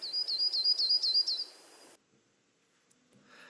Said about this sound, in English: that's a pretty typical nondescript song of a yellow-rumped